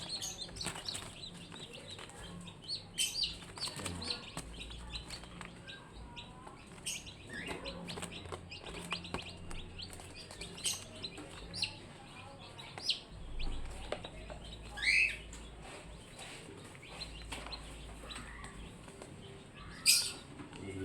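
Day-old chicks peep in a steady, continuous chorus of small high chirps nearby, with a few louder individual cheeps standing out. No one speaks.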